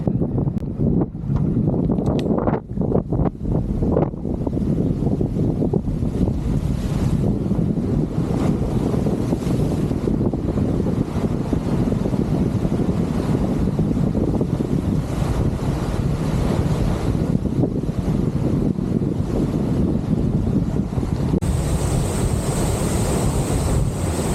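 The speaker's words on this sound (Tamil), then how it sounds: "கடல் அலை வந்து அழகா ஜம்முன்னு அடிக்குது." Sea waves roll in and crash on a beach in a steady, loud wash of surf, heavily buffeted by wind rumbling against the microphone, with no talking.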